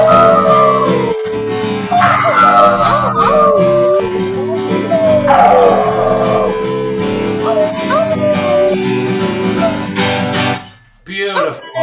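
Several people on a livestream howl together in imitation of dogs, overlapping rising and falling wails that are loud and close, ending in a brief pause and some noise.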